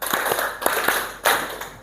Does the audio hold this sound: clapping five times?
yes